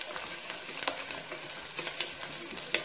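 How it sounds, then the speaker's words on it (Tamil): Raw banana pieces and spices sautéing in a pan for a tamarind curry give a steady, close sizzle, with a few scraping stirs and soft clinks spread through it. "நல்லா வதங்கி, ரொம்ப வதங்கணும் இல்லை, கொஞ்சம் வதங்கினா போதும்"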